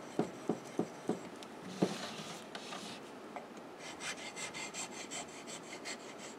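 Hollow chisel mortiser bit honed with fine passes on a sharpening stone, steel rasping across the stone in a series of short strokes, several distinct scrapes early then softer rhythmic rubbing, close and alone.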